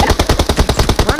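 Loud, rapid automatic gunfire from the mobile battle royale game PUBG Mobile, a steady burst of evenly spaced shots lasting about a second with no pauses.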